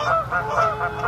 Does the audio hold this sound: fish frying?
no